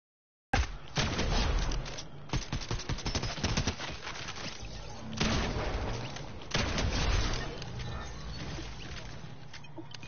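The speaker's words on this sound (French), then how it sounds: "C'est des balles encore à travers le mur" Rapid gunfire crackles in dense bursts from the video game Fortnite, with bullets punching through a wall; shots come in loud clustered volleys with brief pauses, sustained throughout and close.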